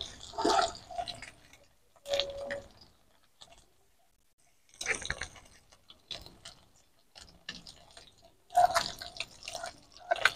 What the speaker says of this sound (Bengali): এবার আলুটাকে আমি সুন্দর করে মেখে নেব।